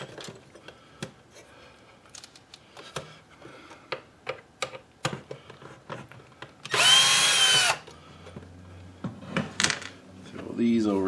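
Screws are undone on a car climate control unit from a 2005 vehicle on a workbench, with rapid clicking ratchet-like ticks followed by a short, loud burst of a power screwdriver whirring, then more scattered clicks and handling noise.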